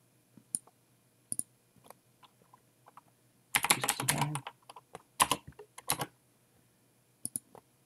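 Computer keyboard typing entering numeric values, short bursts of key clicks with a dense cluster in the middle, close and fairly quiet, no talking.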